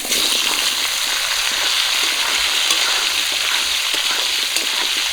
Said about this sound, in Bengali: মাছ ভাজা তেলেই আমি আলু আর কচু ভেজে নেব।